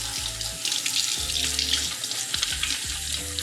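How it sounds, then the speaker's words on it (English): A kitchen tap runs steadily while hands are rinsed beneath it, a close splashing water stream with small shifts in tone as the flow hits the hands and sink, no talk. "I'm gonna rinse my hands because cleanliness."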